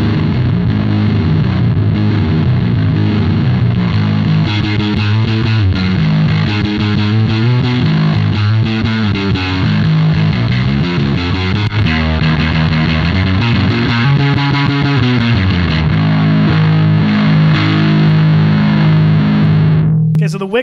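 Big Muff fuzz pedal with tone and wicker switches engaged, driving a loud, saturated guitar riff that plays continuously for about twenty seconds before cutting off abruptly at the end.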